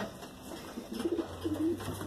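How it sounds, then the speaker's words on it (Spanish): Male pigeons in a loft give soft, low cooing calls, a couple of short murmuring coos near at hand over faint background noise. "Acá eché unos palomos machos que tengo que dividir"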